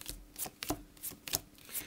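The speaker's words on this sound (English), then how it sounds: "Shuffling the cards very thoroughly." Tarot cards shuffled thoroughly by hand, a soft riffling and sliding in several quick bursts spread over two seconds, faint and close with no talk.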